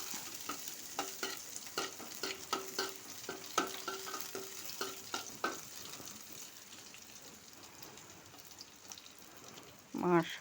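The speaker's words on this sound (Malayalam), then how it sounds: "പിന്നെ ഉള്ളി, കരിവേപ്പില ഇട്ട് കൊടുത്ത് ഇത് നല്ലപോലെ ഒന്ന് മിക്സ് ചെയ്യുക." Onion and curry leaves stir-fried in hot coconut oil with mustard seeds, a steady close sizzle with repeated scraping strokes of a spoon against the pan, fading toward a quieter fry before a final clatter.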